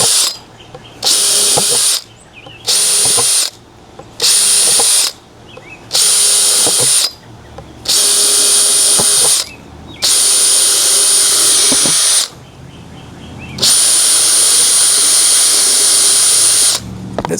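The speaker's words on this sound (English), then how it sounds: "So I'm going to make some 1/4 inch holes." A power drill bores quarter-inch holes in a plastic whipped-topping tub: about eight loud, close, high whines, short at first and longer later, with brief pauses in between.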